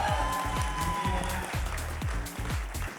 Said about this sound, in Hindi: उनके लिए ज़ोरदार क्लैपिंग।